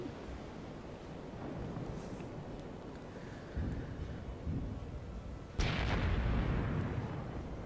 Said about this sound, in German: Und Schüsse aus diversen Richtungen.